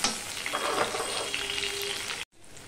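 Chopped tomato dropped into a hot frying pan for a hilsa fish curry with taro, a loud dense sizzle up close for about two seconds, then cut off abruptly into quieter frying.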